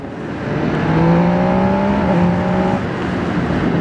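An MV Agusta Stradale super naked motorcycle engine pulls hard, its tone climbing steadily under throttle as the bike accelerates, loud and close, with wind roar and no speech.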